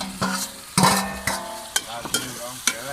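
Chopped tomato goes into a hot pan of oil and whole cinnamon for a jackfruit curry, crackling and sizzling loudly while a spatula scrapes and stirs in several sharp, irregular strokes.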